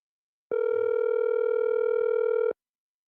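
Steady telephone dial tone on a call-in line to the WZYE 95.9 FM radio show, a single continuous buzzing tone lasting about two seconds, clear and alone with no talk.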